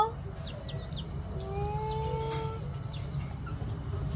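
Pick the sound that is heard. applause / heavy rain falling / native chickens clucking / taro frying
native chickens clucking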